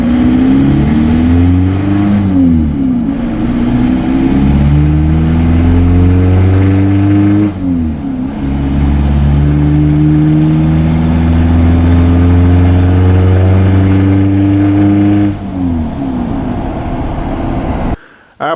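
A Toyota TDI engine fitted with an aftermarket camshaft revs up hard through repeated accelerations, pitch climbing and dropping with each gear change, loud and close for the whole stretch.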